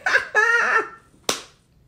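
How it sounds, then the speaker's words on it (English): A single sharp hand clap rings out, close and crisp, after a brief voiced sound, then the room falls quiet. "Let me clap it up before I go forward."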